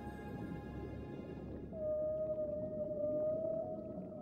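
A long, sustained whale call from Endless Ocean: Blue World, a steady moaning tone that swells and holds over a low underwater ambience, heard clearly with no talk.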